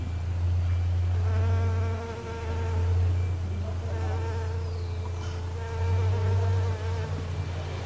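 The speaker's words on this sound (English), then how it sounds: "Hear the bees?" Close, droning buzz of bees in Peru that rises and falls in waves as they fly near and away, continuous with no talking.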